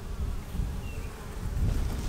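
Dense, steady buzzing of many honey bees inside an open hive colony, close and continuous throughout with a low hum swelling slightly toward the end.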